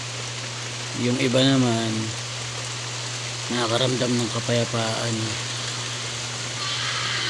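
Steady rain hisses in the background throughout while a person speaks briefly over it, with a low constant hum underneath.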